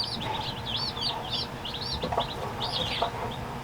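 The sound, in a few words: chickens clucking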